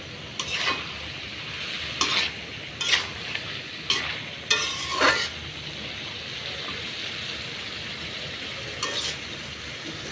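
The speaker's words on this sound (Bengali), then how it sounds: "সুন্দর করে নাড়াচাড়া করে নিব।" Tilapia fish curry with drumsticks and potatoes simmering in a pan, stirred with a utensil in several distinct scraping strokes over a steady soft sizzle, close and moderately quiet.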